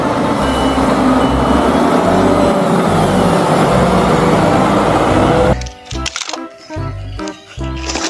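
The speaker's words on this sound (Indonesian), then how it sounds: "Ini mobil truk molen." A toy cement mixer truck runs with a loud, continuous mechanical whir and rattle for several seconds, then gives way to scattered clicks and knocks as it stops.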